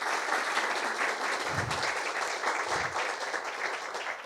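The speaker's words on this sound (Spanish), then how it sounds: "Un fuerte aplauso para ella" An audience at a social security dialogue event in the Dominican Republic gives sustained applause, a steady wash of many hands clapping, fairly distant and even, with no talk.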